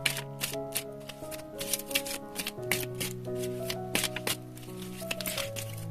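Oracle cards shuffled and laid out during a tarot reading, giving close, crisp rustles and soft taps in an uneven rhythm over a faint background tone with a steady underlying hum.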